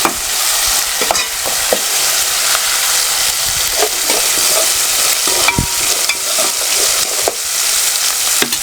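Turmeric, ginger and garlic paste frying in a pan gives a steady, close sizzle throughout, with occasional scrapes and stirring clicks.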